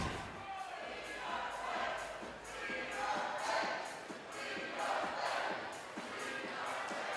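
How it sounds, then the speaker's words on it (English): A crowd at a professional bowling league match chants in rhythmic shouted bursts with thumps and shuffling, a lively indoor roar swelling and falling over several seconds. "Crowd shouting, "Clean your plate.""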